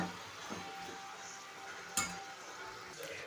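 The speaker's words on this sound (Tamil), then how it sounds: "சேர்த்துட்டு நல்லா கிண்டி விட்டுக்குருவோம்." A spoon scrapes and clinks against a pan while stirring a salted bitter gourd stir-fry, soft sparse taps with one sharper clink, faint overall.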